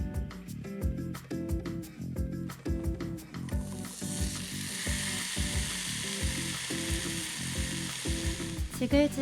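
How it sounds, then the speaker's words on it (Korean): Beef sizzles and fries in a pan at a backpacking campsite, a constant crackle close by, with rhythmic scraping and stirring thuds repeating every half second or so, and no talking. "지글지글 소고기가 익는 소리에 배고픔이 더해지는 기분이네요."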